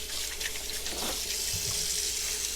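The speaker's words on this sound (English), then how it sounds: "Wash my hands." A kitchen tap runs steadily into a sink while hands are washed after handling poultry, giving a continuous close hiss of water with slight splashing changes as the hands move under the stream.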